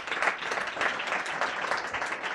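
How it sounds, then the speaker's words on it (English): Steady applause from a crowd, many hands clapping continuously at moderate volume with no pauses. "Please give her another round of applause."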